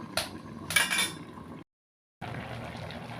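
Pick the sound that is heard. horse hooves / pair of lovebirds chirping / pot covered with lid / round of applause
pot covered with lid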